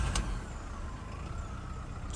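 An Audi A2 1.4 idles steadily just after start-up, a low, even engine hum that stays constant and close with no talking over it.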